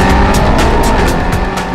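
A Mercedes SLS AMG engine runs loud and close under load, a dense continuous roar with a rhythmic pulsing texture as the double-clutch gearbox shifts almost seamlessly.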